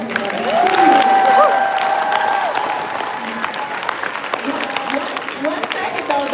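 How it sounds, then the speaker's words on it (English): Audience applause with some cheering at a live barber supply event, a loud burst of many hands clapping that settles into steady clapping, with a few voices and whistles mixed in. "can we please give a loud round of applause to"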